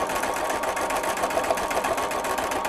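A sewing machine overstitches a second color of Star Thread over existing stitching on a beach bag, its rapid steady whir running continuously and close without pause.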